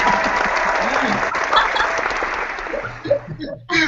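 A small group applauds on a podcast, clapping steadily for about three seconds before it thins out, with a few laughs and a voice breaking in at the end.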